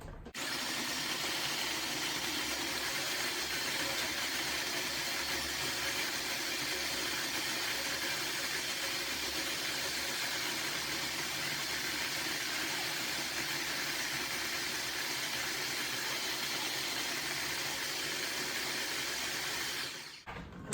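A food processor whirs continuously through a sticky bliss ball mixture, a loud, even motor drone with a churning rattle that runs unbroken for about twenty seconds before cutting off.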